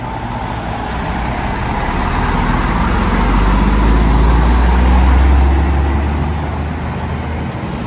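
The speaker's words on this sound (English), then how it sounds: "nice Kenworth coming up now" A Kenworth truck rolls past on a Sydney road at Parramatta, its deep engine rumble swelling as it nears, peaking mid-pass and then fading against steady traffic noise.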